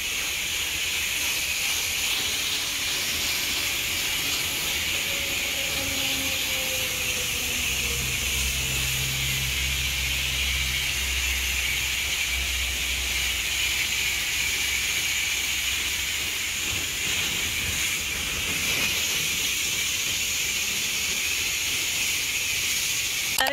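A chemical rinse sprays at a car wash in a steady, loud broadband hiss that runs unbroken throughout, with a low mechanical rumble rising briefly partway through.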